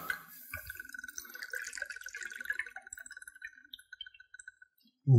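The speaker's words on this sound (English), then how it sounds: "I'm gonna add 2 ounces or 60 mils of blended scotch" Blended scotch is poured over ice in a glass, a short thin trickle with light clinks and drips, ending in a soft thump.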